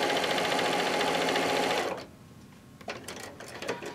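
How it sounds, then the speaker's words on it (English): A sewing machine stitches quilt rows in a fast, steady mechanical whir for about two seconds, then stops, followed by light fabric handling and small clicks. "we're just going to sew down"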